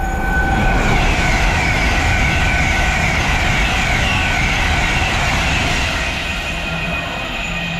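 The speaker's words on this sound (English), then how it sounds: "And here comes the Pendolino." A Pendolino train passes through South Kenton station on the Watford DC line in London with a loud, close, sustained rumble and rail clatter. The noise eases slightly toward the end.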